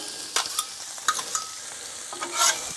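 Onions and sausage sizzle on a Blackstone griddle while a spatula stirs them, with sharp scraping strokes and clicks over a steady close frying hiss.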